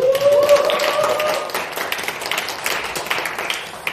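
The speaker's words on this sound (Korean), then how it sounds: "어디 박수 한번 치고 가나요?" An audience claps at a library book concert for author Lee Hee-young in Ansan, a steady, moderately loud patter that fills the whole stretch and eases slightly toward the end.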